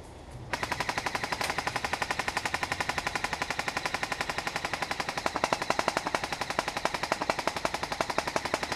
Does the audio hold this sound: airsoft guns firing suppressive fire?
yes